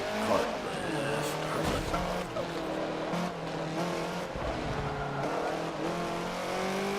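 Race cars in the Forza Motorsport 7 video game roar along the track while tires squeal as one car spins out, a continuous engine drone with brief skid screeches, with players talking over it.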